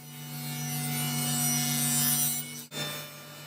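A power saw cuts a wooden serving tray panel to final size, a steady whining hum with a rising rasp as the blade passes through the wood, then a brief dip and a continued whirr near the end.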